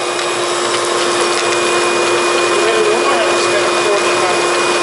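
A cyclone dust separator vacuum runs steadily during a high-voltage cleanup, a loud, continuous whine with a constant tone throughout, while faint voices talk over it.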